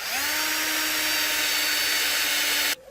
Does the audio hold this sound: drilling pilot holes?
yes